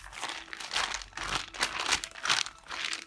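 Tea-stained paper printouts crinkling and rustling as they are handled, in repeated close bursts of crisp crumpling that swell and fade several times, with no voices.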